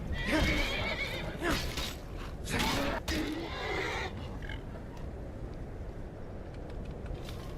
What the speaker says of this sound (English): This horse is my enemy.